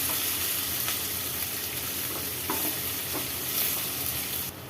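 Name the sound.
sautéing chopped onions in a pan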